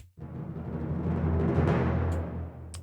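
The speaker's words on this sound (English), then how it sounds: "to get into that next section we have a timpani roll" A timpani roll swells steadily louder over a few seconds, then fades, with a couple of light clicks near the end.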